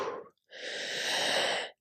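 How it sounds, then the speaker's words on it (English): A deep demonstration inhale for labor breathing: a short breath, a brief pause, then a long, steady, close-miked inhalation lasting over a second, with no talking. "You inhale."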